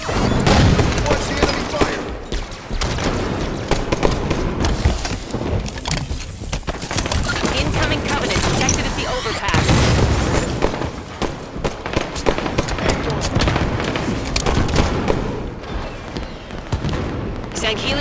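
Enemy gunfire and explosions in Halo's Warzone mode: loud, dense, continuous bursts of rapid shots and booms packed close together throughout.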